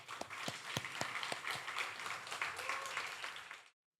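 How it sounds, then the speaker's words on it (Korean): A church congregation claps in welcome for a preacher at a Sunday evening service, a dense roomful of hands with a few sharper individual claps standing out, steady and fairly close, then stopping abruptly. "나오실 때 우리 환영의 박수 같이 하겠습니다."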